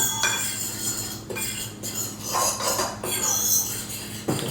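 Instant dry yeast being mixed into pizza dough in a bowl, with repeated metal utensil scrapes and clinks against the bowl in an irregular rhythm, close and fairly loud.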